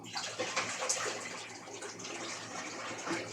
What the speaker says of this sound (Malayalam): അപ്പോൾ അതിലേക്കുള്ള വെള്ളം നമ്മൾ ഒഴിക്കാൻ പോകുന്നത്